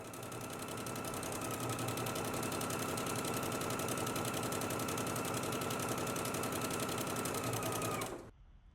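A sewing machine runs continuously, stitching a seam on a McCalls 8253 dress with a fast, even mechanical whir and rhythmic needle clatter close by, stopping just before the end.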